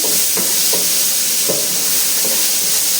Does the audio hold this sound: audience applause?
no